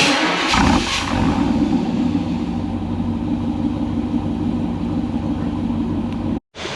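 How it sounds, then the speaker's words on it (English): A truck engine firing up on a cold start, a loud close rumble that catches quickly and settles into a steady idle, with a brief cut near the end. "Cold start!"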